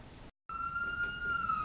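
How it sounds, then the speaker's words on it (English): Police siren tone holds steady through the background, faint and distant, with a brief dropout near the start, heard from inside a garage. "Oh, I hear some police sirens."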